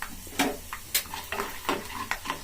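Chana dal with mustard seeds, cumin and peanuts frying in hot tempering oil for tamarind chitranna, a close soft sizzle broken by several scraping stirs of a spoon in the pan.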